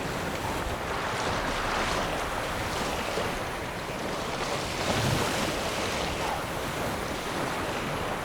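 Keira's boat crosses the water toward an island in The Witcher 3: a steady wash of waves and wind rushing against the hull, continuous and fairly even, with no voices.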